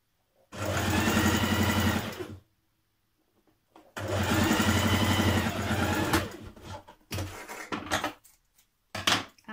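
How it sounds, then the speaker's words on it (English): Overlocker serging fabric edges for a Simplicity 8546 shirt dress, close loud rapid mechanical whirring in two long runs of about two seconds each, followed by short stop-start bursts. "I'm going to overlock those now."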